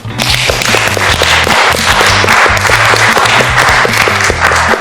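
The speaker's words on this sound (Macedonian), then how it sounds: "Голем аплауз за молам." Loud, sustained studio audience applause on a cooking reality show, dense clapping with sharp crackling hits running steadily throughout with no pauses.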